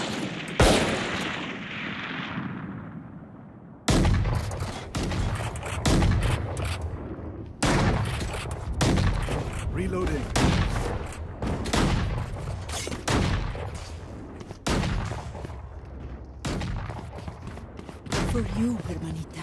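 Video game gunfire: repeated bursts of shots and rapid automatic fire, loud and close, come in clusters separated by brief gaps, with voices talking now and then over the shooting.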